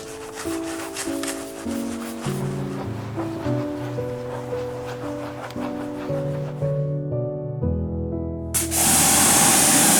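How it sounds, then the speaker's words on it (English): Iron remover hisses as it is sprayed onto the face of a Subaru STI's wheel, a soft spray under background music that ends in a loud, close burst of spraying. "So I just sprayed some iron remover on the face of the wheel"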